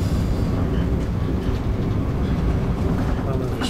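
A passenger train runs steadily, heard from inside the last car: a loud, constant low rumble and rattle of wheels and carriage without breaks.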